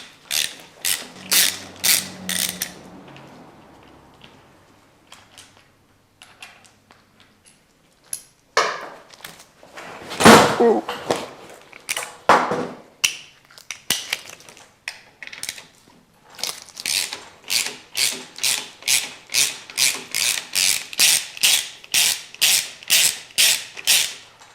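A hand ratchet works on the crank and cam bolts of a twin cam engine, with rapid clicking pawl bursts, a few louder clunks and creaks mid-way, then a long run of steady, evenly spaced clicks, close up and without speech.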